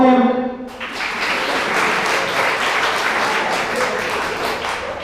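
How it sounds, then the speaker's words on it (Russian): Loud, sustained audience applause fills a stand-up comedy show after a short burst of voice at the start, holding steady for several seconds as a dense wash of clapping. "Похлопаем."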